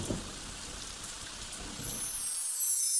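Rain falls in a soft, steady hiss, faint at first, then a brighter rush of water swells near the end.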